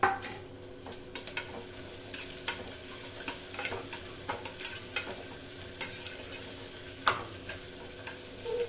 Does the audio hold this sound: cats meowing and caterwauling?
no